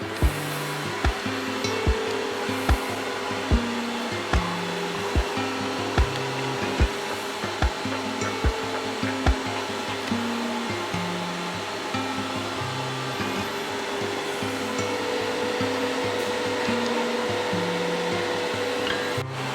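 An 1800-watt Ikon air fryer set to 200 °C and cooking French fries gives a steady, close whirring fan hum with regular faint ticking clicks, heard alone.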